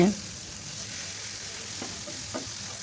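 Soft-cooked pumpkin curry with dried beef sizzles in a pan while it is stirred, a steady low hiss with a couple of faint spatula scrapes and a brief knock at the start.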